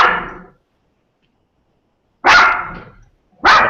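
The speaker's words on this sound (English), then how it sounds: "That's a dog." Dog barking in three loud, sharp barks close by, the first followed by a long silence before two more in quick succession.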